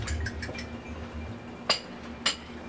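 A fork clinks against a bowl while pulled pork filling for wontons is mixed, giving a few light taps and then two sharper, brighter clinks near the end over a quiet kitchen background.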